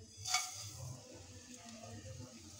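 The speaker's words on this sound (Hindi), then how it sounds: "इसे आप लगातार चलाते हुए भूनिएगा 1-2 मिनट के लिए।" Vermicelli being dry-roasted in a pan and stirred continuously, with a soft sizzle and faint scraping throughout, one brighter clatter near the start, steady and close.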